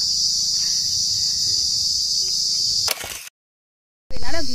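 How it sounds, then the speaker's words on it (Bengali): Loud, dense cricket chirping fills a cashew jungle near Gangani at evening, a steady high insect drone that breaks off abruptly with a handling noise, falls silent, then resumes. "আর ঝিঝি পোকা ডাকছে প্রচন্ড পরিমাণে"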